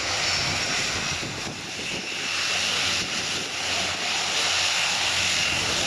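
A turboprop military transport aircraft's engines hum and roar steadily at a moderate distance as it taxis with its rear ramp lowered at the RIAT 2016 airshow, a constant mechanical drone with some wind buffeting.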